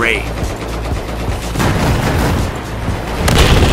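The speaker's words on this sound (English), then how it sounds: "Look at the explosions!" Explosions and gunfire rip through a 64-player Battlefield 4 match on PS4, with dense bursts of rapid shots and heavy booms layered close and loud, and a player's voice talking over the chaos.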